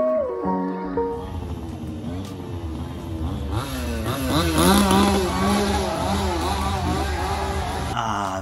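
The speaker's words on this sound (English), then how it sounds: "The sweet smell of chainsaws." A chainsaw runs at the Doncaster Fear Factory Halloween scare attraction, a loud raspy engine revving and wavering continuously close by, with faint background noise.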